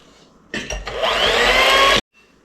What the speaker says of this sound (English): we're just going to blend it with my 1970s GE blender until stiff peaks form